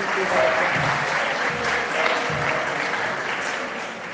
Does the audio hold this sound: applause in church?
yes